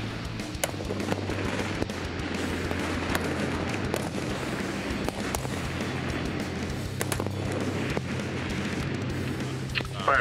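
Scattered M4 rifle shots on an Army qualification range, sharp distant cracks at irregular intervals over steady outdoor background hum, with faint voices in the background.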